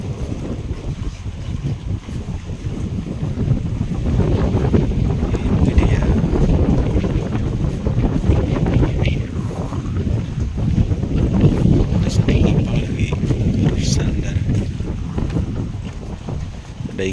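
Strong wind sweeps over an island jetty and buffets the microphone with continuous heavy rumbling gusts for the whole stretch, with faint water noise underneath.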